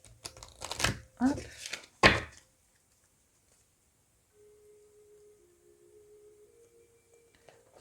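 Tarot cards being shuffled by hand, giving a few quick papery riffles and crinkling bursts in the first couple of seconds, followed by near silence with a faint tone and a brief spoken interjection.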